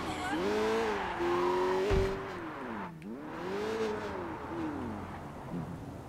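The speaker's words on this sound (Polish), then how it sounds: "Ależ ten samochód jest rakieta." In the Sleeping Dogs video game, a fast car's engine revs loudly, its pitch sweeping up and down through several gear changes, with a brief tire screech partway through.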